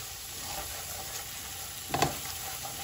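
Masala for a lamb curry sizzles steadily in a pan, quiet and close, with one brief louder scrape of stirring near the middle.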